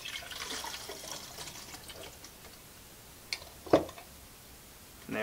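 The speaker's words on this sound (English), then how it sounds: "we'll start it as we're pouring in our chemical here." Fixer chemical poured into a film developing tank: a soft liquid stream through the first seconds, then a couple of brief clicks and a sharper knock near the end, close and fairly quiet with no talk.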